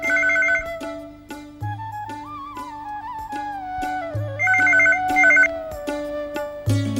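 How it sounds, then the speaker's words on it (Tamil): A telephone bell rings in a home in a Tamil TV serial, sounding in two or three short clustered bursts over continuous background music. "டெலிஃபோன் பண்ணி அடிக்குது நல்ல சகுனம் தான்"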